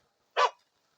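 A single short, sharp dog bark voiced by a storyteller imitating a dog, heard alone against silence.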